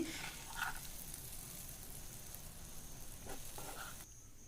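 Eggs coated in black pepper masala fry in oil in a pan over a low flame, a soft, quiet sizzle with faint crackles that drops away at the end.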